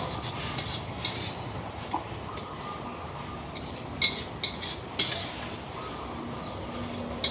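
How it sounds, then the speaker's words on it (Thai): Metal utensils scrape and clink against a pan in steady stirring of curry paste, with a few sharper knocks over a soft continuous sizzle. "เราก็ผัด เครื่องแกงมาจน หอมนะคะได้ที่แล้ว"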